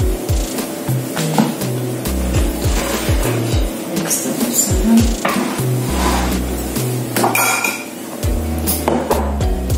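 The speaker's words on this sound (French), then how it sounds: "Je vais découper ça petit, hacher ça et je vais mettre ça dans le riz." Knife chopping leftover food small on a cutting board: a quick, irregular series of loud close thuds and clicks, with short pauses between bursts of cuts.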